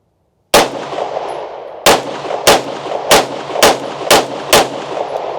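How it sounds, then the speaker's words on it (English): Rapid gunfire from a pistol-grip firearm during outdoor target shooting: one sharp report, then a pause, then six quick shots in a steady rhythm. The shots are loud and close, with no voices. "So there's a little rapid fire for you."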